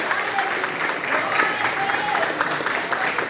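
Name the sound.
congregation applause in church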